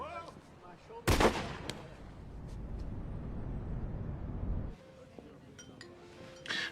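Shotgun blast at a clay target shoot: one sharp, loud report followed by a long fading echo and background hiss, with a faint metallic clink and distant voices around it.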